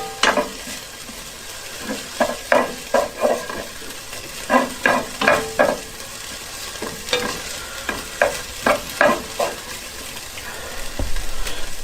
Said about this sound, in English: And we'll just cook this for another minute. I'm going to stir it constantly this time.